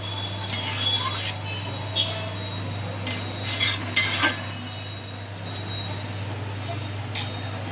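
Maggi noodles being stirred in a cooking pot, with intermittent scraping and clinking bursts of a utensil against the pot over a steady low hum, loud and close.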